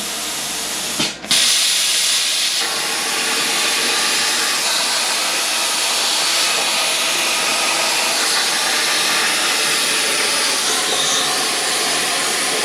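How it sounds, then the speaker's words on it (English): An air compressor runs as a broad, steady hiss during CNC plasma cutting on a Crossfire table, loud and continuous for the whole stretch after a brief dip near the start, with no speech. "my air compressor is holding up just fine"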